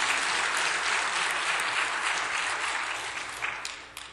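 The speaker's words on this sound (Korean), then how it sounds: "이럴 때는 박수를 한번 쳐야 되는 거 아닙니까?" Continuous applause from a church congregation during a Korean afternoon praise worship service: a thick wash of many hands clapping at once, holding steady before thinning and fading out in the final second.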